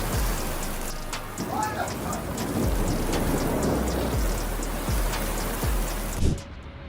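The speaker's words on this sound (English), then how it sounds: "lightning suddenly struck the Spanish football field, causing the players to rush to find shelter." Thunderstorm over a Spanish football field, with heavy rain hissing steadily and several sharp cracks and low thumps from nearby thunder and lightning, cutting off abruptly near the end.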